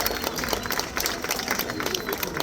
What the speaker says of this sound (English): I think another big round of applause is in order for our girls there